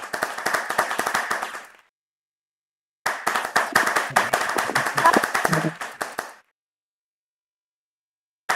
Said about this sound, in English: let's do a big round of applause for Karen X Cheng